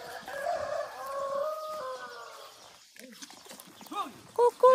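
Birds call and chatter outdoors at sunrise on a farm in Uganda in short, bright phrases, with a rooster-like crow and scattered clucks, fairly near and moderately loud.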